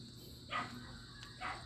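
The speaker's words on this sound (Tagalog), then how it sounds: "pasensya na kayo sa background ko guys kasi malakas talaga yung bunganga ng aso" A dog barks twice at a distance, faint and spaced apart, over a quiet steady background hum.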